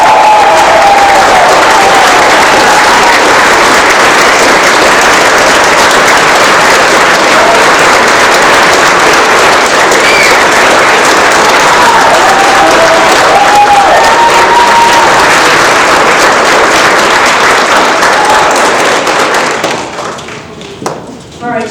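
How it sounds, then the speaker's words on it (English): A crowd at a student leadership awards ceremony applauds a community service award winner, steady loud clapping with a few whoops and voices over it for about twenty seconds before it dies away. "Please give a big round of applause for our Outstanding Community Service Award winner"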